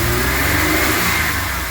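The engine of a 2000 GMC Safari van runs cold after a throttle position sensor replacement and revs loud and close in a steady, rough roar with no talking.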